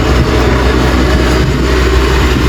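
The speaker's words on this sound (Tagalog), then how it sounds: "narinig mo yung makina ngayon mga cons. Yun yung umaandar na makina." The engine of a hollow block making machine runs loud and close, a dense rumbling drone with steady mechanical rattle and no pauses.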